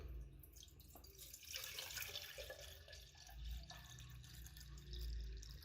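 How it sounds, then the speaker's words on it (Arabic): Tap water runs steadily into a small kettle while Adeni milk tea is being made, a continuous close splashing stream that swells slightly toward the end, with no talk. "نضيف اولا الماء"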